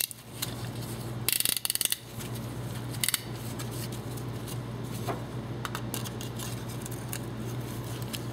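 Quick ratchet clicks tighten a fastener while a piston is installed in an engine on the bench, a short burst of dense rattling clicks near the start and a briefer one later, over a steady low hum with no talking.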